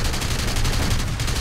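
Rapid, dense cannon fire from Bf 109 fighters in a War Thunder aerial dogfight, a continuous loud burst of closely spaced shots lasting over a second.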